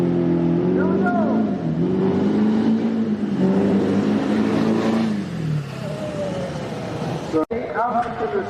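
Diesel drag trucks at a dirt drag race spool their turbos, with engine tones swelling and falling in loud, rising whines, while an announcer talks over the noise.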